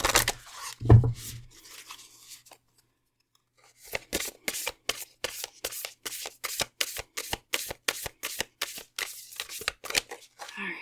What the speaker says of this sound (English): let's pick out our oracle cards and shuffle